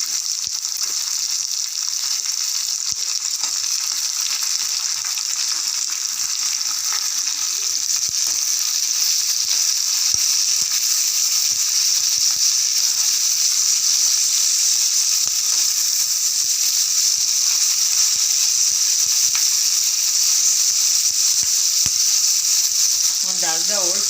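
A large tomato fries in a pan and sizzles in a loud, steady hiss for the whole stretch. Faint stirring shows through here and there, and the sound stays close.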